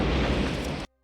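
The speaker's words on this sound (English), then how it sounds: "The squad retreats and scrambles for cover as the mortar explosions close in on them." A loud, close mortar blast in a war film, a sustained broadband roar filling the whole clip before cutting off abruptly into silence.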